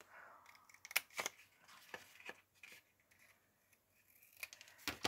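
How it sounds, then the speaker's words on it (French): Scissors cutting and snipping paper at a crafting table, with a series of sharp, irregular snips and light rustles of folding paper, close and quiet, without any talking. "je vais venir couper comme ceci, plier ça, couper en diagonale là."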